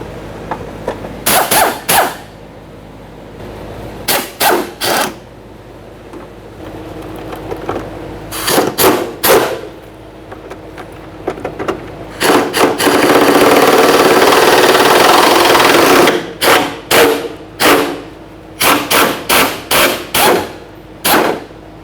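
A power tool zips off 10mm mounting bolts beneath a Toyota Sienna, short loud ratcheting bursts with pauses between them and one longer sustained run in the middle.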